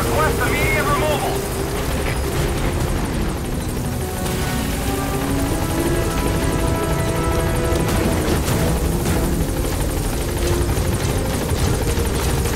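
A support helicopter arrives at a landing zone in the video game Metal Gear Solid V, its rotors making a steady, loud droning whir throughout, with voices talking over it.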